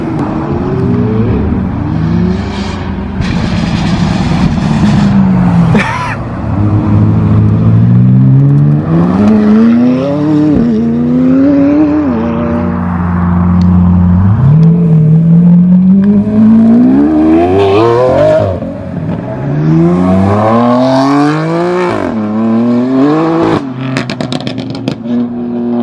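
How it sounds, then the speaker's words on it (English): A Lamborghini Aventador and other cars pull away from a car barn one after another, engines rising and falling through repeated loud acceleration sweeps with gear changes and passing roars. "time for all the cars to leave"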